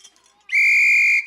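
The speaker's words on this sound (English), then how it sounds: "They invented a teacher's whistle." A teacher's whistle gives a single sharp, shrill blast lasting under a second, loud and close after a near-silent start.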